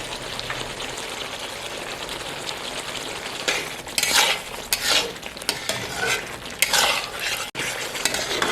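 Chicken karahi being stirred in a pan with about 50 grams of butter, giving a soft steady sizzle with scraping and clinking stirs that grow louder in bursts toward the end.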